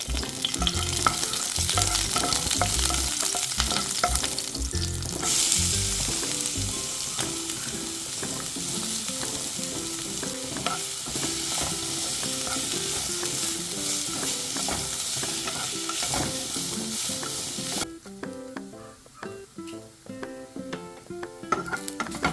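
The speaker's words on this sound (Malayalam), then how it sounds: "വെളിച്ചെണ്ണ ചേർത്ത് കൊടുക്കാം പച്ചമുളക്" Green chillies frying and being stirred in coconut oil, for a roasted-coconut egg curry: a loud, crackling sizzle with frequent clattering stirs, then a quieter, softer fry with occasional scrapes in the final seconds.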